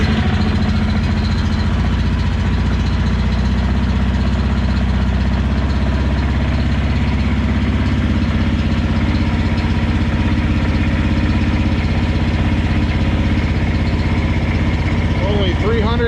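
A snow blower engine runs steadily and loudly throughout, a continuous low rumbling drone that holds even from start to finish, with its choke newly repaired.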